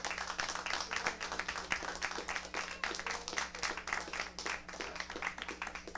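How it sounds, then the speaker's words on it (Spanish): A church congregation applauds during a sermon, a dense wash of many hands clapping at a moderate distance that holds steady for several seconds with no speech over it. "Dale un aplauso seguro."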